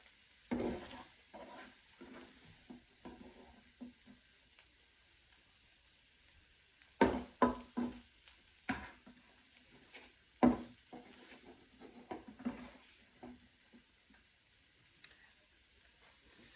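Cooked salmon with its marinade is scooped out of a pan, giving intermittent soft scraping and clinking of a utensil against the pan over a faint sizzle, with a few louder scrapes midway.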